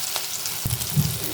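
Beaten egg mixture for an omelette sizzles in hot oil with a steady crackling hiss and one or two soft thuds as it settles in the pan, close by and without talk.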